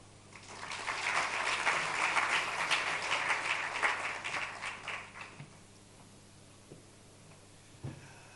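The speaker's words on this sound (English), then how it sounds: "Another round of applause for Ramotse" An audience at the 2025 HATAB annual conference applauds. The clapping is dense and steady at moderate distance, then thins out and fades to scattered claps and room quiet.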